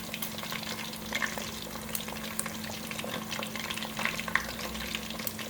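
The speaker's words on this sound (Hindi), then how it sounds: "तमाम पीसों को टर्न करेंगे ताकि दोनों तरफ से फ्राई हो जाए अच्छी तरह से।" Gram flour coated fish pieces frying in oil over a medium flame, a soft, even crackling sizzle with faint bubbling and occasional small pops, steady and moderately quiet with no voices.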